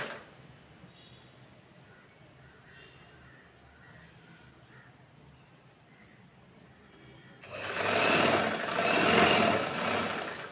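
A sewing machine stitches a saree edge. A low, faint mechanical hum runs first, then a louder whirring run of stitching starts near the end and keeps going steadily.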